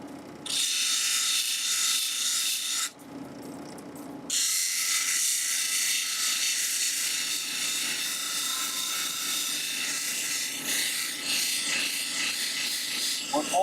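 A drill boring into Crazy Lace agate stone at a lapidary shop, a steady high-pitched grinding whine running nearly continuously with one brief break, close and loud, with faint voice activity underneath.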